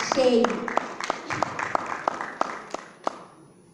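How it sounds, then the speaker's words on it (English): Thin applause from a conference audience after a panel speaker is introduced: a voice at the start, then scattered, distinct claps that slow and fade away. "You can give him a round of applause, Mr. Oluwase."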